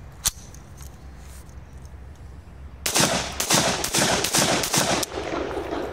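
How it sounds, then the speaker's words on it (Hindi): MP5 9mm pistol test fired from a second magazine, a quiet lead-in followed by a rapid burst of sharp, loud shots close by, then a few more spaced rounds. "अब करते हैं दूसरी मैगजीन से फायर। दूसरे मैगजीन से फायर करते हैं।"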